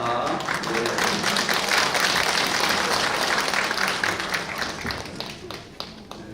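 Warm, sustained applause from a church congregation at a retreat, steady and fairly loud with some nearby claps standing out, tapering slightly toward the end with faint voices underneath.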